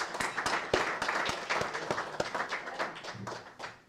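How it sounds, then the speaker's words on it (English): A small gathering applauds a couple celebrating 37 years of marriage, with sparse, distinct claps from a handful of people and a fairly quiet patter that thins out toward the end. "so a round of applause"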